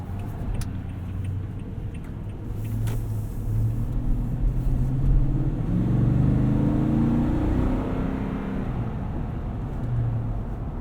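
Cabin of a 2018 Toyota Sequoia SR5 4x4 driving down the road: a steady low engine and road rumble swelling slightly midway, with faint rattles, heard from inside without talk.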